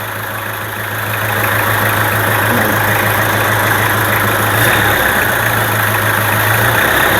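Car engine raised from idle to higher RPM during an air-conditioning compressor check, a steady loud mechanical drone that swells after the first second and holds with a constant low hum, no speech.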